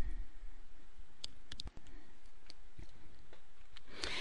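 A computer mouse clicks on a login button, heard as several sharp, quiet clicks scattered over a soft background hum.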